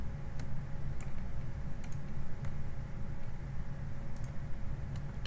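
Mouse clicks and key presses during Photoshop work come through as a few soft, scattered ticks, close by. They sit over a steady low background hum, with no talking.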